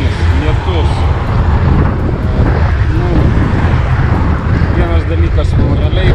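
A strong headwind roars against the microphone of a cyclist riding through rain on a tour around Lithuania, making a loud, steady low rumble with gusty buffeting that lasts the whole time.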